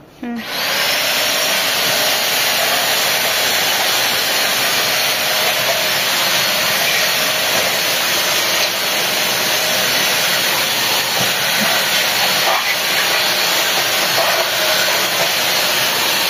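A Eureka Forbes NXT 2-in-1 vacuum cleaner with its rod attached runs steadily at close range, a loud continuous whirring roar that starts abruptly and holds level throughout with no talking.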